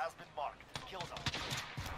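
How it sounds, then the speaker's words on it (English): Distant gunfire from a team sniping in the Warzone video game, scattered faint shots and bursts under low background noise. "Sounds like this team's sniping at them."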